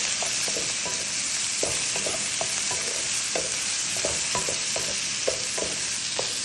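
Grape seeds being stirred in a hot pan, a continuous bright sizzle with repeated scraping and clicking strokes from the utensil, close and steady, without talk.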